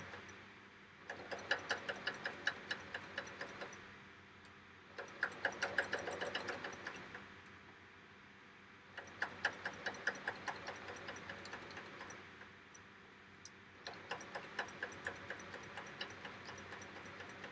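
A serger sewing machine stitching fabric runs in four bursts of rapid ticking clatter, each a few seconds long, separated by short pauses, close and moderately loud.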